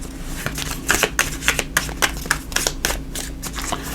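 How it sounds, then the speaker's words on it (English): Tarot cards are shuffled by hand in a quick, close series of riffling, slapping bursts repeating about every half second, crisp and up close with no talking. "give it one more little shuffle here"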